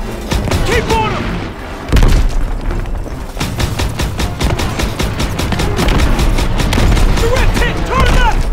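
Dense, loud gunfire from the Call of Duty: WW2 campaign mission The Rhine, with rapid bursts and heavy booming impacts hammering almost continuously, and voices shouting over the battle.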